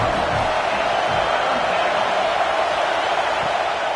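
Stadium crowd in EA College Football 26 at a Syracuse game, a dense, even roar of many voices with faint cheers, steady and loud throughout.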